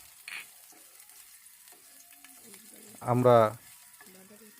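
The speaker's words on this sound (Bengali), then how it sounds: "কয়েকটি 5-6 কোয়া রসুন আমরা হালকা ভেজে নেব।" A few garlic cloves fry gently in soybean oil in a pan, giving a faint, steady sizzle, with a brief spoken word partway through.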